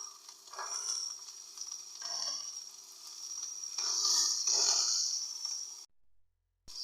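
Tomatoes sizzle and fry in a hot pan for chicken manchurian, a steady close hiss swelling and easing with a few stirring scrapes, then cutting to silence near the end.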